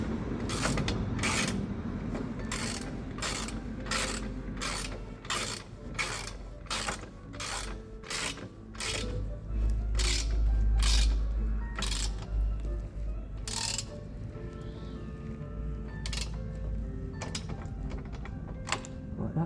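A ratchet wrench tightens the exhaust header bolts on a Yamaha XJ6 Diversion motorcycle in rapid bursts of sharp, close clicks, pausing between strokes.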